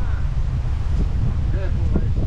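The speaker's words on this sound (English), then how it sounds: "I know, it's very windy here today. Quite gusty, about 37 mile an hour gusts." Strong wind gusting to about 37 mph buffets the microphone on a canal boat in a constant low roar, with a few faint voices underneath.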